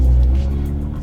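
A Hyundai Veloster N with an 8-speed dual-clutch transmission on a race track gives a loud, steady engine drone in a brief burst, its harmonic hum holding even throughout.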